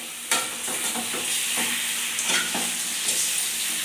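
Chicken with curry leaves sautéing in a pan, a constant crackling sizzle broken by repeated scraping stirs and clanks of a utensil, close and fairly quiet, with no talking.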